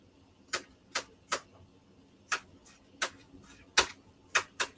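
Knife striking a titanium cutting board while chopping orange and yellow peppers, sharp distinct taps in an uneven rhythm, about ten of them, close and alone.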